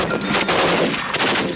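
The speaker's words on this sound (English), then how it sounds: "The machine gun team provide most of the firepower." Machine gun fire from a military patrol team laying down covering fire near a riverbed, a dense, loud burst of continuous shots with no pauses.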